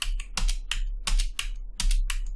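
Computer keyboard keys, the arrow keys and enter, are pressed in a quick irregular series of about eight crisp clicks. They are near and clear, with no talking.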